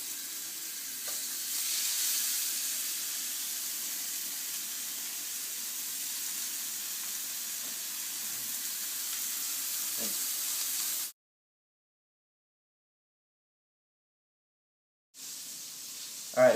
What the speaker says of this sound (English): So we're going to throw on one burger first, and the second right next to it.